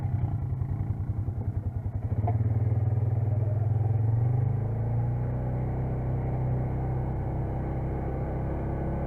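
A side-by-side ATV drives in high gear, its engine a steady, close droning rumble that rises slightly around the two-second mark and then holds an even pitch, with no talking.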